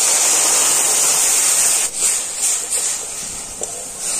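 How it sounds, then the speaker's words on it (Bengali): Water poured from a bowl into melted sugar in a pan for homemade mehendi, a loud, steady rushing hiss that eases into a softer, uneven sizzle once the pour stops. "তো এখানে আমি 1 বাটি জল দিয়ে দিচ্ছি।"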